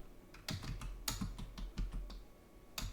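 A computer keyboard is typed on in a quick, uneven burst of close, crisp key clicks, with a short pause before a final cluster of keystrokes.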